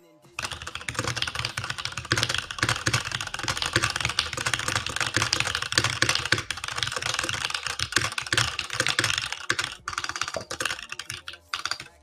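Rapid, continuous typing on a computer keyboard during a TypeRacer race, dense clatter of keystrokes running almost nonstop for about eleven seconds, close and fairly loud.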